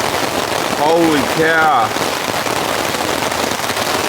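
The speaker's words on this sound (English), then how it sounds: "Rain's coming in very heavy now. It's getting very loud." Heavy rain pounds a camping tent in a storm, a dense steady patter that fills the whole clip, loud and close, while a man exclaims briefly over it.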